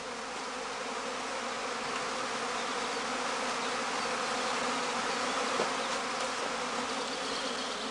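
Dense, steady buzzing of a honeybee colony clustered around straw skeps, the collecting kind made without plastering; the many-winged hum holds at an even, fairly loud level throughout with no voices.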